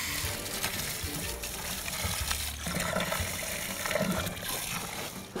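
A hose at full blast pours water into a freshly dug fence post hole, a steady loud gushing and splashing that runs throughout without talk.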